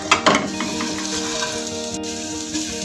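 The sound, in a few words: garlic sautéing in hot oil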